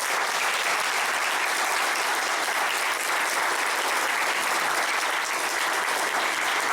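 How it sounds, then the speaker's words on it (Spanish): Steady, dense applause from a large audience at a Mexican public event, a continuous wash of clapping at even loudness throughout with no voices over it. "Yo quiero que le demos un fuerte abrazo y un fuerte aplauso."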